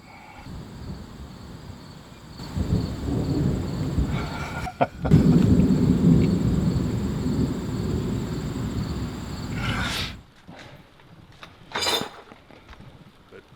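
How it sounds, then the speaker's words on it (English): Rain falls outdoors at a Jeep Wrangler work site, building into a steady hiss midway with a sharp crack, then easing off into quieter ambience with a single word spoken. "And then it did just start to rain, just instantly"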